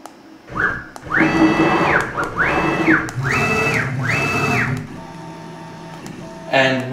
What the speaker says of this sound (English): I will now guide the tip of my tool down to this piece of carbon fiber